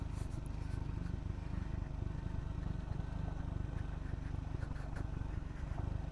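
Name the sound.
Royal Enfield Scrambler 400X motorcycle engine braking downhill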